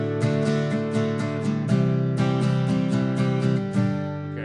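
Acoustic guitar strummed in a quick rhythmic pattern, crisp repeated chord strokes with bright attacks, close and clear with no voices.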